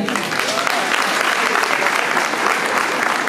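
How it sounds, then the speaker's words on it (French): Loud, dense applause fills a casino venue hall, continuous and even throughout, with a crowd murmuring beneath the clapping. "Et on peut les applaudir."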